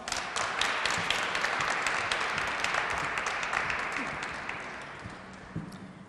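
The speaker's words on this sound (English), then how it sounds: "give her a round of applause" Audience applause welcoming a speaker at a Black History Month Alzheimer's and dementia seminar, a crisp burst of many hands clapping that starts strong and gradually thins out.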